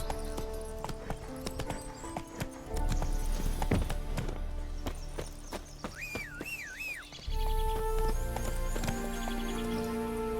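Roach, a horse in The Witcher game, gallops with rhythmic clip-clop hoofbeats throughout, joined by a whinny partway through, over game music and ambience.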